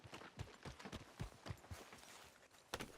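Horse hooves clip-clop steadily on the ground in the Red Dead Redemption 2 video game, a regular walking rhythm of soft thuds at a moderate distance with no talking.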